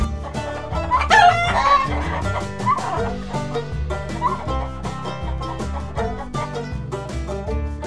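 A rooster crows and chickens cluck inside a chicken coop on a farm, the calls layered over a steady musical backing throughout.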